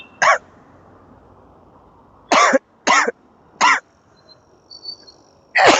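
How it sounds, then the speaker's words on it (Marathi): A man coughs in five separate harsh bursts, spaced irregularly with pauses between them, close and loud over faint background ambience during a trip to a Ganesh temple. "खोकला लय बेकार झालाय मित्रांनो."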